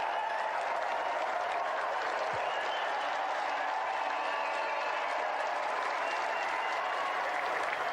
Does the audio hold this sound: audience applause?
yes